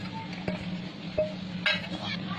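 Spices being stirred into a soybean marinade in a bowl, with soft close scraping and a few light clinks of a spoon against the dish over a steady low background hum.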